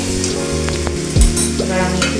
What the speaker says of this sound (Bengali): ভালো করে কষানো হয়ে গেছে।